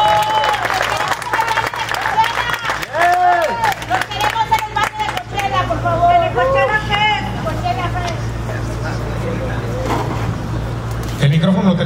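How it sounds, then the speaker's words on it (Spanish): Applause from a crowd at a press conference for a quebradita music act, a dense sustained clatter of clapping mixed with cheering and chatter, loud and close, fading into scattered voices. "fuerte aplauso, muchachos, por favor"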